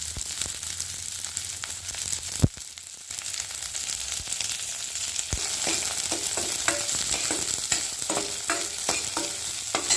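Shallots and mustard seeds fry in hot oil for an eggplant curry, a steady loud sizzle broken by repeated scraping stirs and a sharp clack near the start, with no voices.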